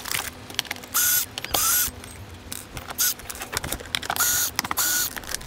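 Screws come out of a boat enclosure frame in several short, fairly loud mechanical whirring bursts, each under a second long, with quieter clicks and handling noises between them.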